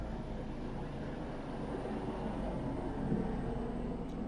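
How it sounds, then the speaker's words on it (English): A low-flying helicopter passes overhead as a steady broadband rumble with a deep low-end drone, fairly constant and swelling slightly near the end, with no talking. "It's a very low helicopter."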